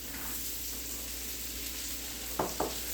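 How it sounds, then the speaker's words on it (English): Onions sautéing in butter give a steady, soft sizzle throughout, with two brief louder scrapes or stirs near the end. "I'm gonna saute my onions."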